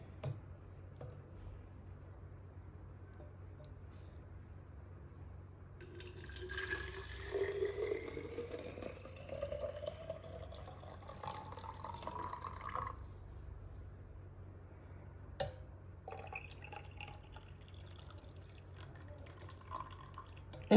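Hot water is poured into a vessel for mixing as part of a home morning routine. It makes a moderate, close splashing stream whose pitch rises as the container fills over several seconds, then softer drips and clinks follow, with no speech.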